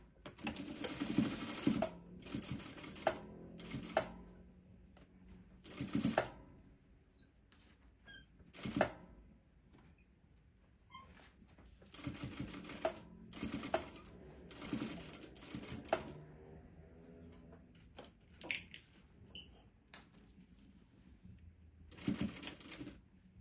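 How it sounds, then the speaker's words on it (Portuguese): Domestic sewing machine running a straight seam across gathered pleats on fabric, in bursts of rapid mechanical stitching separated by short pauses, close and clear with no talking. "Vamos passar uma costura reta aqui em cima pra costurar todas essas preguinhas e poder tirar esses alfinetes"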